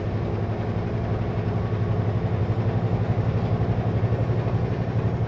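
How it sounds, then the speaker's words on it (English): A truck's engine brakes run steadily through a large muffler, a muted low, pulsing rumble that holds at an even level throughout. "That's my engine brakes. I use full engine brakes in cities."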